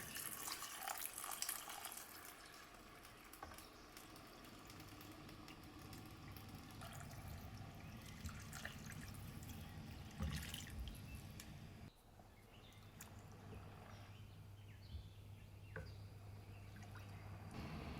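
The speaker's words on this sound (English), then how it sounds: "then pour in 4 cups of water." Water being poured from a vessel into a pot of fried rice in a kitchen, a quiet splashing and trickling that changes in tone partway through, without any talk.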